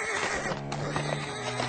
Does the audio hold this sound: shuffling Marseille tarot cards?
no